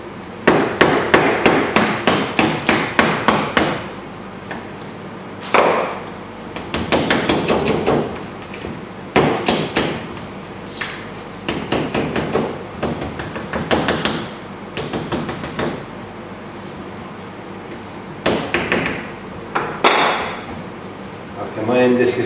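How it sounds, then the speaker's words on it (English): An end disc being tamped down into a 4 inch silver spider web firework shell casing, with sharp, close knocks in quick rhythmic bursts separated by short pauses. "come and insert your end disc, tamp it down like that"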